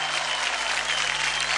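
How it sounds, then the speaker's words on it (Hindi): Studio audience applauding loudly and steadily at a Zee TV children's dance competition show, DID L'il Masters, a dense continuous clapping with no talk over it. "जोरदार तालियां हो जाए धर्मेश के ढिंचा ऋतुराज के लिए"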